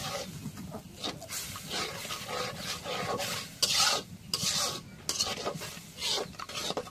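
Fish curry masala stirred in a pan, heard as rhythmic rasping scrapes of a spatula against the metal in uneven bursts, close and moderately loud, with no voices.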